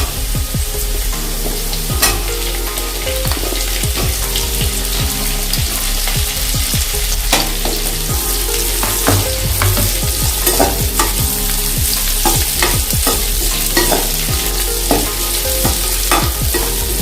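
Carrot, potato and cauliflower frying in a pan for navratan pulao, a loud continuous sizzle with frequent sharp scrapes and clanks of a spatula stirring, close up and without talk.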